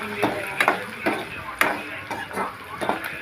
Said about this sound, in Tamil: கல்லுப்பு எடுத்துக்கலாம். போட்டுட்டு நல்லா கிண்டிக்கலாம்.